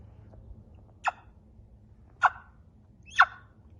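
Three short, sharp turkey clucks from a Ted Peters trumpet yelper call, spaced about a second apart, close and clear over a faint low hum.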